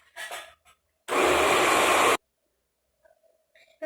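An electric mixer beating carrot cake batter runs in one loud, steady whirring burst of about a second, close by, with a short voice before it and quiet kitchen sounds afterward.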